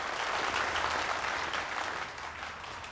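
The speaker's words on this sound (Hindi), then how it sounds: "ऑडियंस इसलिए तालियां बजा रही है" An audience at a magic show bursts into applause, a dense, even wash of clapping that holds strong and then eases slightly toward the end, with no talk over it.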